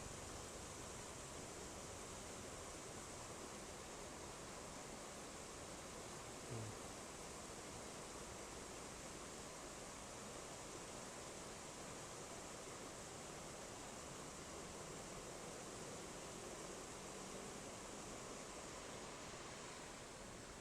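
Broad, steady rush of flowing water from the upper Ciliwung River near Puncak, Bogor, where several headwater streams meet; a continuous close roar with no pauses and no voices.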